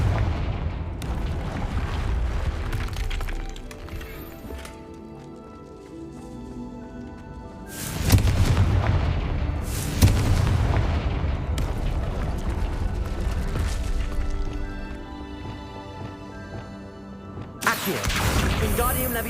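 Bombarda and Confringo explosion spells go off in the Hogwarts Legacy video game, with heavy booming blasts that come in a few loud, sudden bursts over a dense rumbling background of game music and effects, with a voice speaking at times.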